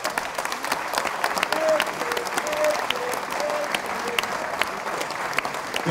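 An audience applauds steadily at an FK Austria Wien presentation to welcome board member Markus Kraetschmer, a dense, even clapping that carries on through the whole stretch with no break.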